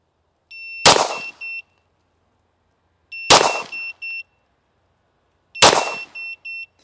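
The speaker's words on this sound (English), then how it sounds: "I'm gonna shoot 3 shots on the buzzer" Shot timer buzzer followed by handgun fire at a shooting range: three separate sequences, each a sharp electronic beep tone overlapping a loud, close gunshot crack, spaced about two and a half seconds apart with silence between.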